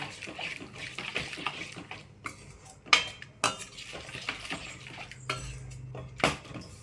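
A spoon stirs dry ginger and pepper kuzhambu ingredients in a metal pot, giving close scraping swishes punctuated by several sharp metallic clinks and knocks against the pot.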